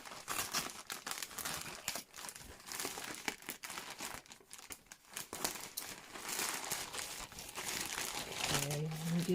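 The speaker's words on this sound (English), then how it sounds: "All right, so we'll just open the bag." Plastic packaging crinkles and rustles up close as a bag holding a leather Hobonichi Weeks planner cover is pulled open, with a person talking throughout.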